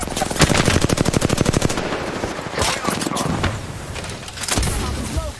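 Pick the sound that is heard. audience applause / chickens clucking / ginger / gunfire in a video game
gunfire in a video game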